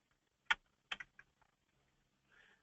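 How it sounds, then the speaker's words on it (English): A few sharp keystrokes on a computer keyboard while entering a premium amount, arriving as isolated clicks and short bursts with quiet gaps, fairly close and soft. "let me type that in here"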